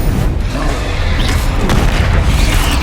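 Bombarda explosion spell from the Hogwarts Legacy game on PC, a dense, loud booming blast with continuous low rumble filling the whole stretch without pause.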